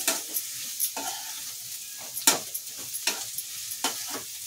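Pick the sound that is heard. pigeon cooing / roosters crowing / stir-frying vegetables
stir-frying vegetables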